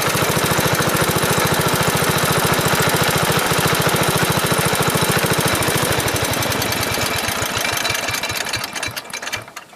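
A vintage Montgomery Ward Garden Mark garden tractor's small engine chugs loud and close with a rapid, steady firing beat, then slows into spaced, uneven pulses and winds down near the end, with no voices.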